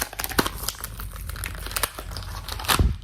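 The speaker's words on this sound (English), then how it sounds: "Really trying to go for the ASMR there with the rip" Cardboard and plastic blister packaging ripped and crinkled by hand to free a Star Wars Vintage Collection Skeleton Crew action figure from its card, a close, loud burst of tearing and crumpling with sharp crackles and a final hard rip, no voices.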